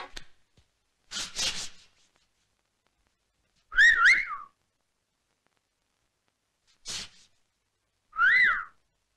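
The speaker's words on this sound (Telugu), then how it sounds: "ఏలవేయటం నాకు కొత్త కాదు" Several short, sharp whistles with pauses between, some rising and falling in pitch, close and clear against silence.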